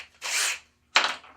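Power drill with a 1/4 inch bit boring through a cork ring: two short bursts of whirring, grinding drilling separated by a brief pause, close and fairly loud.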